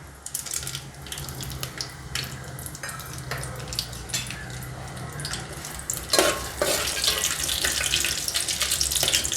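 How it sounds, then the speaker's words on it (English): Bay leaves and garam masala sauteing in a pan for vegetable pulao, a soft continuous sizzle with scattered stirring and scraping clicks, louder crackling toward the end, no talking. "So let's saute for some time until the aroma of the garam masala comes"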